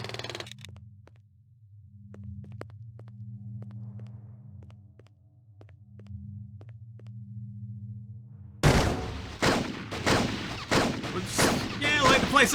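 Gunfire erupts in the 1997 Blade Runner video game after a long low humming drone with faint ticks; then loud, dense shots and blasts crack in quick succession, close and harsh.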